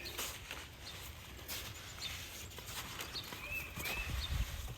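A horse trotting in a riding lesson, hooves beating a steady, rhythmic clip-clop on the arena footing throughout, fairly close, with faint bird calls in the background.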